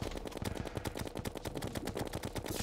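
Rapid, steady musket fire loaded with silver bullets in Terraria, sharp shots cracking in a dense, evenly spaced stream with no voices over them.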